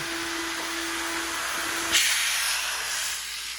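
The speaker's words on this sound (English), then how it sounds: "Air dryer is on." A powerful car wash air dryer blasts with a loud, steady roaring hiss that surges briefly midway and keeps blowing close by.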